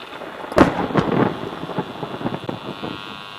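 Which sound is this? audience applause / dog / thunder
thunder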